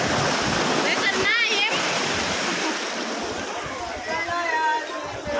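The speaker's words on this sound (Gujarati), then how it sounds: "આપણે અત્યારે હતા ગોમતી ઘાટે જોવો મસ્ત મજાનું પાણીનું સ્તર છે આવ્યું મોટું મોજું મોજા" Big sea waves surge at Gomti Ghat in Dwarka, a constant loud roaring wash of water with splashes, while people talk faintly in the background.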